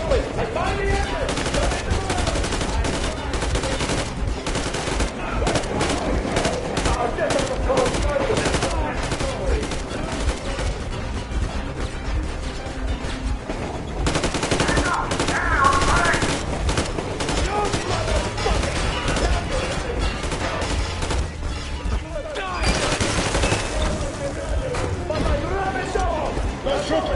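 Gunfire in the video game Metro Exodus: dense, continuous shooting and rapid bursts that carry on for nearly half a minute, with voices speaking over the fire.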